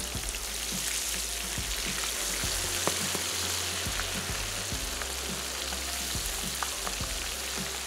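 Food frying in a pan with a low, steady crackling sizzle and scattered pops running throughout at moderate level, with no voices.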